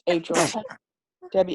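A single sharp sneeze cuts in amid an instructor's lecture on heart rhythms, with speech right before it and again after a short pause.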